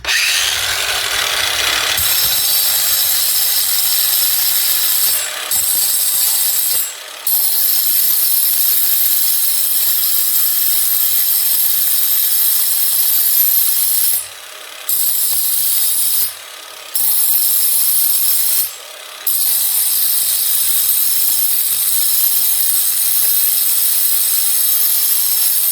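Grinder sharpening the carbide teeth of a stump grinder in the field, a continuous loud high whine and grinding hiss broken by a few brief drops when the tool lifts off, alone without talk.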